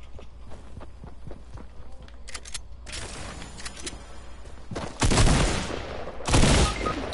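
Video game gunfire crackles in short bursts, with light rapid shots and footsteps early on, then two loud, close volleys near the end, mostly without talking.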